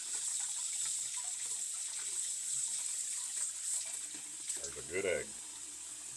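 Tap water runs steadily into a kitchen sink while boiled eggs are peeled under it for pickled red beet eggs, a continuous close hiss with a brief splashy gush near the end and a short spoken remark.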